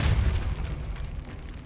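A Depulso spell from the video game Hogwarts Legacy goes off as a single loud, deep blast that rumbles and fades over under two seconds.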